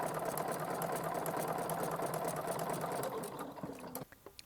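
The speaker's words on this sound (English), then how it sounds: "So we can double up on things and stitch that wire down, going on each side of the wire." A sewing machine fitted with a braiding foot runs steadily while stitching down a wire, its fast even whir lasting about three seconds before it slows and stops, leaving a few faint clicks.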